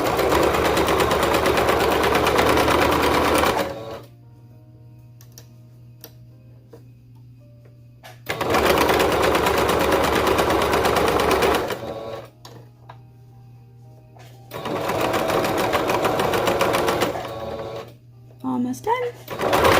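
A serger sews elastic onto a romper in three loud, rapid mechanical bursts, separated by quiet pauses with faint handling sounds.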